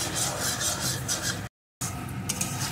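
Spice paste sautéing in a pan over medium to low heat for chicken curry, a close, steady sizzle and scraping rasp with one short silent gap midway.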